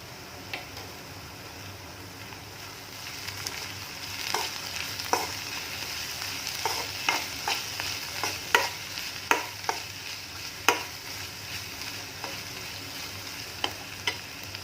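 Sautéed onions sizzle in a pan with turmeric powder for an egg curry, a steady frying hiss under repeated scraping stirs that grow busier and clack sharply toward the middle and end, close and moderately loud with no talking.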